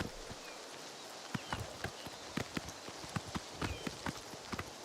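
Horse hooves clop at a steady walking rhythm in Oblivion Remastered, a black horse striking ground in sharp, fairly close, evenly spaced beats over a soft game ambience, with no talk.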